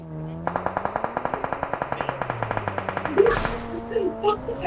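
A rapid burst of automatic gunfire in a video game on the Miramar map rattles in an even, fast rhythm for several seconds, followed by a sharp whoosh and faint voices.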